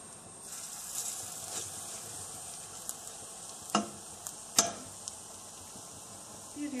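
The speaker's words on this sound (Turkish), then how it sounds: "Bir yüzü pişen öcelerin diğer yüzünü de çevirebiliriz." Öcce fritter batter sizzles quietly in a heated pan with hollow molds, a steady soft frying hiss broken by a few sharp clicks and taps.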